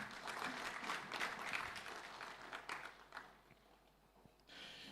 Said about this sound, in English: Please, a round of applause again.